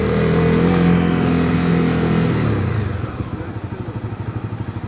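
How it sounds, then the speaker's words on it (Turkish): Motorcycle engine, a racing bike on the road, running loud and close with a steady revving drone that drops off partway through into a lower, pulsing idle rumble. "Araba geliyor"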